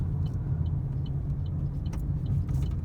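A car's engine hums low and steady under engine braking during a driving lesson, with a continuous close rumble and faint ticks, and no talk.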